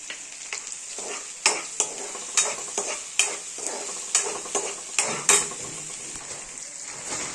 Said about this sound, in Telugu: ఉల్లిపాయలని కొంచెం మగ్గించుకుందాం కొంచెం సాల్ట్ వేద్దాం త్వరగా మగ్గిపోతాయి ఉల్లిపాయలు